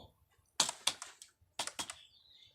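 CSS code is typed on a computer keyboard in two quick clusters of crisp, close key clicks separated by a short pause, with no voice over them.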